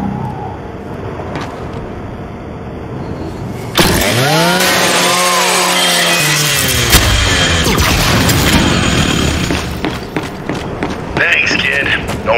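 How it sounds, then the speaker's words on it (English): A Lancer rifle's chainsaw bayonet revs up loudly and grinds through a robot custodial unit in Gears 5, a sustained whining buzz lasting several seconds, with game sounds around it. "Just use your Lancer's chainsaw."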